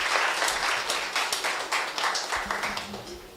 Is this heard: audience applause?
yes